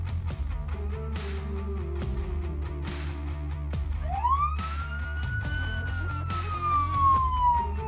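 An unmarked police pickup's siren wailing as it takes off after a red light runner, rising and sweeping in pitch over steady road noise, growing louder toward the end.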